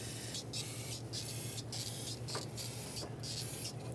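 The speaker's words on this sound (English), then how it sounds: "Give it a tiny little spray on each injector O-ring" Short hissing bursts of brake parts cleaner sprayed onto injector O-rings on a 2008-2010 Ford F250 Super Duty 5.4L V8, several quick faint spritzes over a low steady hum.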